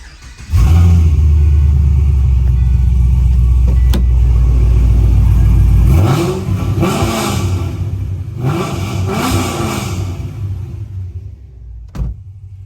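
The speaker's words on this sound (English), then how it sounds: "It has an aftermarket exhaust on it, and it sounds amazing." A 2005 Pontiac GTO's LS2 V8 with aftermarket exhaust idles with a deep, throaty burble, then blips through two sharp revs that rise and fall before settling back.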